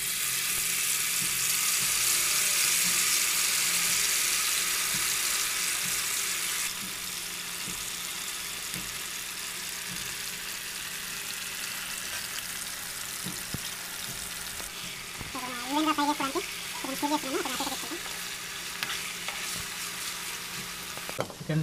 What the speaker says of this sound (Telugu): సో ఇప్పుడు మనం మ్యారినేట్ చేసిన చికెన్ని ఫ్రై చేసుకుందాం.